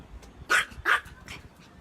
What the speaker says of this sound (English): My youngest son just let her outside to bark, because that's what she likes to do, is bark.